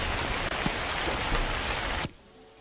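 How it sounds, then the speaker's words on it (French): Heavy rain hisses steadily nearby for about two seconds, then cuts off abruptly into near quiet. "le bruit de la pluie, ça me casse les oreilles"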